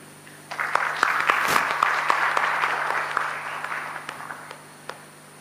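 Audience applause at a forum session, a steady wash of many hands clapping that swells in and holds for several seconds with scattered sharper claps standing out, no talk over it.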